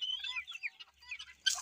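Chickens of mixed ages, small and large kept together on a newly built poultry farm, cluck and chirp in a steady, fairly close series of short calls, with a louder burst at the end.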